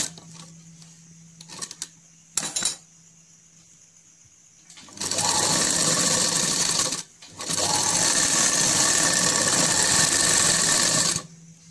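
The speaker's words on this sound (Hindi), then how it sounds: "अब हम नीचे की तरफ यानी कि बॉटम के पास से सिलाई लगाएंगे" A sewing machine stitches the bottom hem of palazzo pants, running in two long loud continuous bursts separated by a short pause, after a few brief handling clicks at the start.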